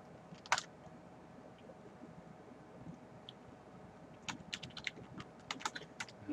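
Keystrokes on a computer keyboard while entering login credentials, a quiet isolated click near the start, then bursts of clustered taps in the last two seconds over a steady low room hum.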